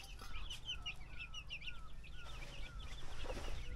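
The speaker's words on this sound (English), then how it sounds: "All the baby chickens here." Chickens cluck and chirp around a village in Nepal, a busy cluster of short calls from several birds over a low rumble in the background, with no talking.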